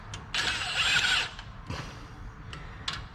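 Lug bolts are threaded a couple of turns onto a Ford Transit wheel hub during a brake job, with a short burst of a power tool whirring, then ratcheting creaks and metallic taps, close up and without voices.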